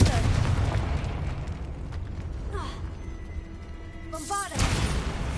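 A Confringo fire spell in Hogwarts Legacy goes off with a booming, rumbling blast and crackling bursts, loud and close, ending in a bright whooshing flare followed by continued roaring.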